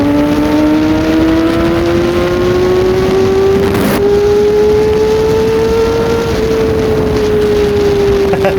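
A Kawasaki Ninja ZX-25R with a 250cc inline-four engine in base mode accelerates, its loud whining engine tone rising steadily through the gears with a brief shift break near the middle.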